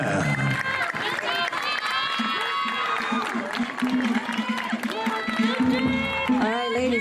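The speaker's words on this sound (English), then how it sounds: "Give a round of applause." Crowd cheering, shouting and applauding at a 2021 Tahitian dance competition prelim for ages 19 and up, a loud, dense roar with voices and music-like tones mixed in throughout.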